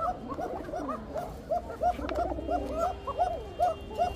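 Rajshahi Giribaj high-flyer pigeons coo over and over, a string of soft, rolling calls overlapping at close range against a low background murmur.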